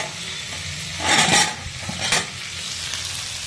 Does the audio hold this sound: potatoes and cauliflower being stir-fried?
yes